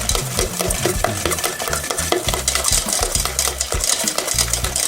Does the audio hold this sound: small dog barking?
no